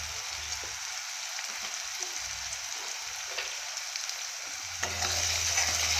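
Potatoes with turmeric frying in a pan, a steady close hiss of sizzling oil with a few soft scraping stirs, growing slightly louder toward the end, with no talking.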